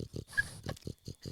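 A dog grunts and snorts like a pig in short, rhythmic bursts of about six close, fairly quiet snuffles.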